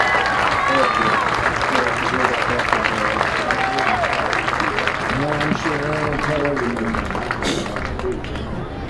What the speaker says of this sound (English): Let's give another round of applause for the 2024 homecoming king and queen, Carter and Mel